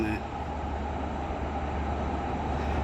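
Steady low rumble of a Red Line train drawing in on the Thai railway, a constant heavy drone with a faint squeal near the start and a voice talking over it.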